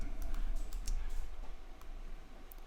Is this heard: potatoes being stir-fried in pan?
no